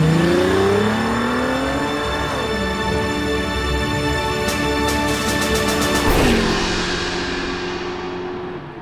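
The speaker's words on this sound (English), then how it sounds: "He started up the Batmobile and sped towards an unknown destination." The Batmobile's engine in an audio drama revs and climbs through rising pitches as the car speeds off, a continuous loud motor sweep with a brief burst of clatter before trailing away.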